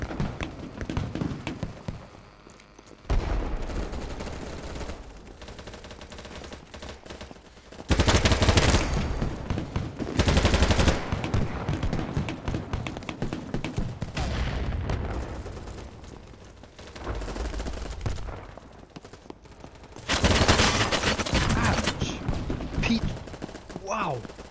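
Gunfire in the online shooter BattleBit Remastered comes in loud, dense bursts of rapid automatic shots separated by quieter stretches, with players talking over parts of the action.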